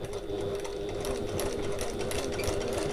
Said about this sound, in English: So I'm going to sew as close as I can to the edge without going off the edge.